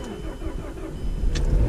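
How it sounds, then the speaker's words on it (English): A car engine cranks and catches right after a battery change, rumbling low and rising as it turns over, close by and fairly loud. "Gotta make sure the car starts."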